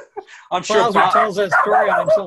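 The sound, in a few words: dog barking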